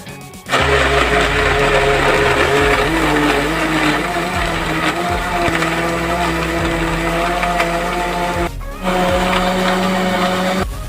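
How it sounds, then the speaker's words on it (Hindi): An electric blender grinds cold coffee ingredients in a loud, steady whir that holds for about ten seconds with a brief dip near the end, with no talking. "अब हम सब चीज़ें इसमें शामिल करने के बाद इसको ग्राइंड करेंगे"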